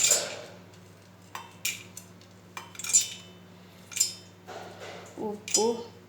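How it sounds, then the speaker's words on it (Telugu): Dry lentils tipped into a mixer grinder jar in a home kitchen, heard as several short clinking, rattling bursts of pouring spaced a second or so apart, with a few brief scrapes near the end. "పప్పులు వేసుకోవాలి. దీంట్లోకి మిక్సీలోకి"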